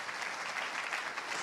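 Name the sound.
church congregation applause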